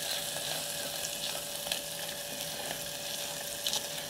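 Garlic sizzles steadily in a hot pan, with faint scrapes and taps from a silicone spatula stirring it; a constant close crackle with no talking.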